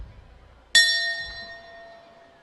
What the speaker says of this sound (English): that is the bell for the 5th round